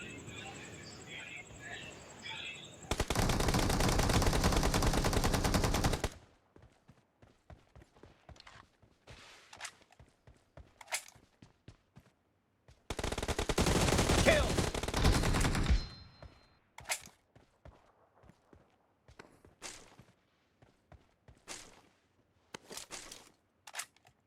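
Gunfire from BGMI mobile battle-royale gameplay: two long sustained bursts of automatic fire interspersed with many short single shots and clicks, mostly loud and close.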